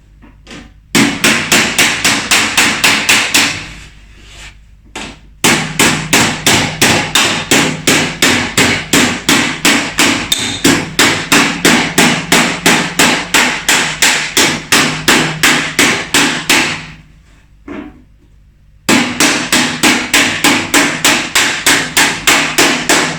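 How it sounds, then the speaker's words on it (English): A hammer beats metal flat in fast, steady runs of loud, ringing blows, close by, with short pauses between bursts and no voices. "Now I might use the other hammer"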